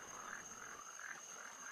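A frog croaks in the Rusty Lake Paradise video game, a steady run of short, evenly spaced croaks set against a faint constant electronic tone.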